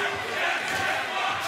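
Crowd at a tables, ladders and boxes wrestling match, a loud, steady roar of shouting and chanting from a large indoor audience, with no break.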